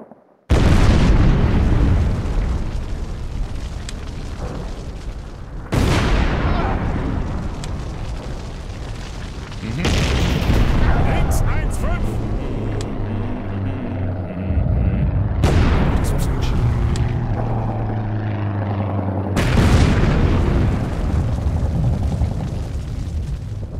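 Heavy artillery salvos and explosions in a World War II battle game at the Barvenkovo bridgehead, with several loud booming blasts spaced a few seconds apart, each followed by long rumbling decay and debris crackle.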